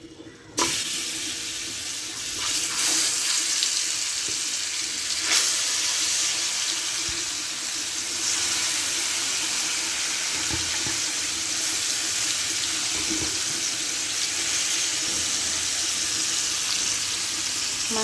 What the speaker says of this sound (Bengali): এখন আমি এক এক করে মাছগুলো ভাজার জন্য দিয়ে দিব।